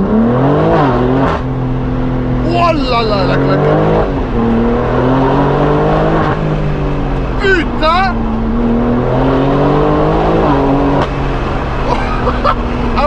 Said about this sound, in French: ce que j'aime avec cet échappement, c'est qu'il est pas trop radical, mais il gueule quand même de ouf